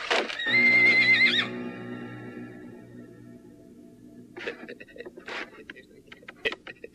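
A horse gives a loud, high whinny up front, followed by a quieter stretch and then scattered clopping hoofbeats and movement noises toward the end, with no talking.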